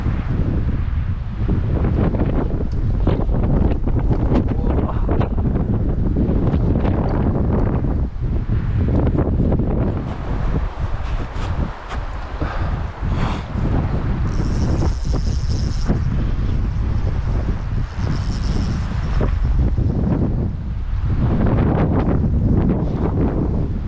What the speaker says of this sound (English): Yeah, it's just windy.